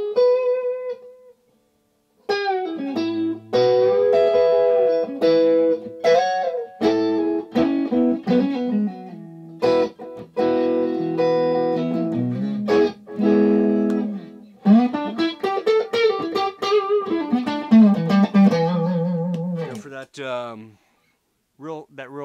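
An S-style electric guitar with Zexcoil pickups in single-coil mode plays a bluesy lead line through a swirling rotary-speaker effect, with sustained bent notes and chords, loud and close, with brief pauses between phrases.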